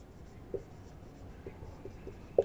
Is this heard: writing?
yes